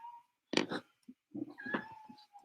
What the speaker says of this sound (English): A cat wants into the closet with me.